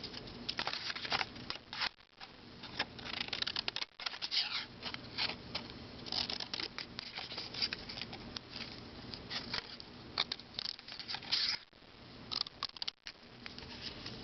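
Scissors cut a traced paper rectangle for a doll-sized popcorn box, a steady close run of crisp snips and rustling paper with brief pauses, and no voices.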